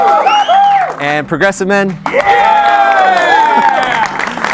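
Studio audience of men cheering, whooping and applauding loudly, a dense crowd roar with shouted voices, broken by a brief spoken phrase before the cheering swells again and carries to the end.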